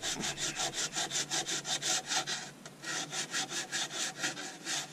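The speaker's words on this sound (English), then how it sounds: "Just giving the edge a bit of a rub back." Edge of a wooden natural edge bowl being rubbed back by hand, a steady rhythm of about fifteen close rasping back-and-forth strokes with a brief pause midway, no talking.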